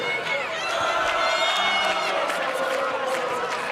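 A men's college volleyball crowd at a midnight game cheers and shouts continuously at a packed indoor match, a loud, dense roar with whoops rising through it and no single voice standing out.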